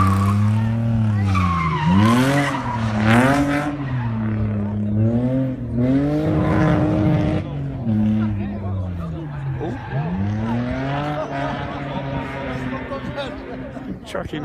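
A rally car charges through a stage and brakes hard, its engine note rising and dropping with tire scrub, loud and close, while a commentator talks over it throughout.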